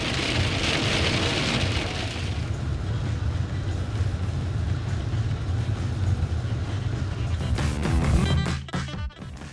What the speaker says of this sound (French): Il s'est mis à pleuvoir et à grêler,